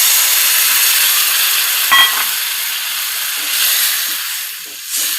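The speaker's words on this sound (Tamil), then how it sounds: "இப்போ நம்ம புளிக்கரைசலை ஊற்றிக்கலாம்" Tamarind water is poured into a hot pan of sautéed onions while making manathakkali vatha kuzhambu, giving a loud, steady steaming hiss and sizzle that swells briefly a few times, close up and without talk.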